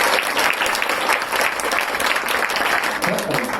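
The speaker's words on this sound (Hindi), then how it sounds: "अब आप सबके लिए तालियां बजा सकते हैं।" Loud, dense applause from an audience in a hall, continuous clapping from many hands that stays strong and close for the whole stretch, with voices mixed underneath.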